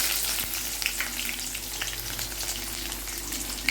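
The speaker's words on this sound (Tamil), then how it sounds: "வெங்காயம் நல்லா வதங்கட்டும்" Onions frying in a pan for a snake gourd dish, a dense, even crackling sizzle heard up close with faint stirring ticks scattered through it and no one speaking.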